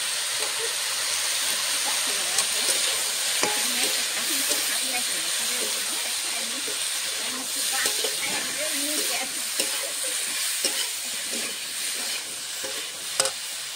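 Beans and peas fry with salt, turmeric and spices in a pan, giving a steady sizzle and hiss with scattered scraping clicks from stirring throughout, no voice over it.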